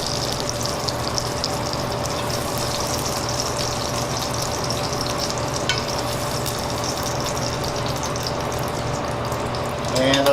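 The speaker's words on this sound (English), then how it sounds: "Now these scallops are definitely a little undercooked. We're going to continue to cook while we're making the sauce." Scallops cooking in an oiled pan while a sauce is being made, giving a steady, continuous sizzle and frying hiss that runs throughout at moderate level, with no talking over it.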